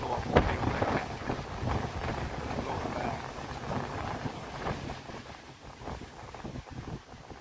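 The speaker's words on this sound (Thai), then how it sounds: "ลมแรงจริง ๆ เลย แต่เย็นสบายครับ" Steady rushing wind buffeting the microphone on the open rock field at Phu Hin Rong Kla, Thailand, a continuous roar with gusty swells throughout and no clear voices.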